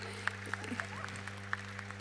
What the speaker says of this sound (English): can I have a huge round of applause for all of you?